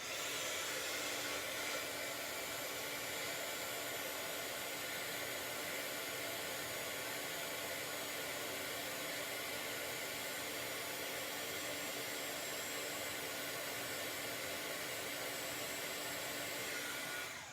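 Heat tool blowing hot air over a glittery, fluffy liquid craft medium, a loud steady whooshing roar running unbroken throughout and ending abruptly.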